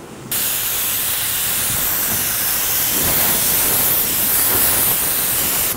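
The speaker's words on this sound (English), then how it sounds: "we're going to go ahead and hit our second round of base coat now" Spray gun laying a coat of base coat paint on a vehicle, a loud, steady airy hiss that starts abruptly and continues unbroken, with slight swells in intensity as the gun sweeps across the panel.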